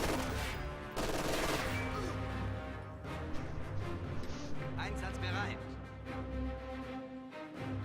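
Bursts of machine gun fire from an MG42 team in the strategy game Company of Heroes 2, rattling continuously amid other battle noise and game music throughout.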